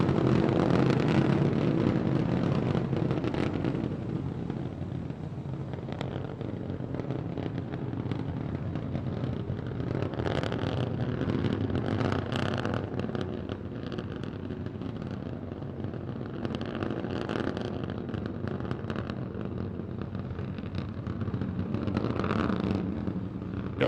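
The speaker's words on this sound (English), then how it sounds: "All 3 Raptor engines continuing to burn." A SpaceX Starship rocket climbs in flight with three Raptor engines burning, a steady, heavy broadband roar that holds loud and rumbling throughout with slight swells, no voices present.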